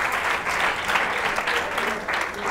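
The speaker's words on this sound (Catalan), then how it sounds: "un aplaudiment" Studio audience on a Catalan TV letter game show applauding, a dense continuous clapping that stays loud and even throughout.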